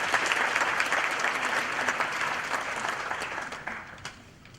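An audience at a graduation ceremony applauds in a dense, steady wash of clapping that slowly fades toward the end, with a few faint voices in the crowd.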